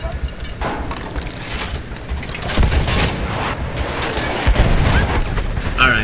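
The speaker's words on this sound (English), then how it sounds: "I'm shooting with the AA and I'm doing some things." An anti-aircraft gun fires repeatedly in the video game Battlefield 1, a loud stream of booming shots layered with rumbling battle noise.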